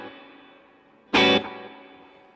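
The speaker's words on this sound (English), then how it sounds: "you have that delay that you're hearing the echo coming back moments after I play" Guitar run through a delay pedal set for a longer delay with more repeats, blended with reverb: a sustained chord decays, then a loud burst strikes once and fades back into a lingering echo tail.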